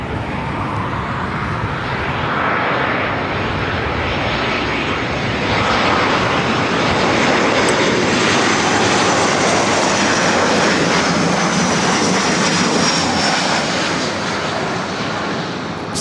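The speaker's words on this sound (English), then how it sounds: "Southwest Airlines 3207 coming in from San Francisco on a 737-700." A Southwest Airlines Boeing 737-700 arriving at LAX from San Francisco: loud, close jet engine roar swelling into a sustained broadband rumble and whine that holds steady throughout.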